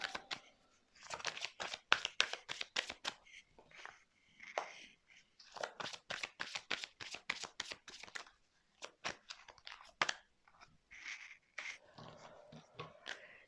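Tarot cards being handled and shuffled, heard as rapid bursts of crisp riffling and flicking in close, quiet bursts separated by short pauses.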